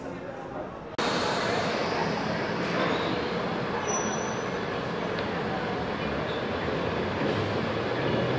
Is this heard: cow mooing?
no